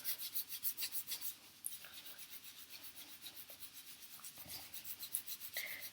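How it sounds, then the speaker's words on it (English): Hands rub vigorously over a scalp in an Indian head massage, making a close, soft, rhythmic rasping friction that pulses steadily and quietly without a break. "Next is to use the hands and to vigorously press and rub the scalp."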